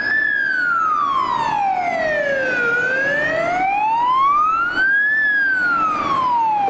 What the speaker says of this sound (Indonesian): Yuhu, keluarlah truk pemadam kebakaran.